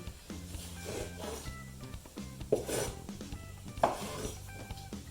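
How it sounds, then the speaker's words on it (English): Knife finely chopping pork skin on a board, a run of close, moderately loud rasping cuts with scraping strokes and a couple of sharper knocks. "So the next step is we just finely chop it."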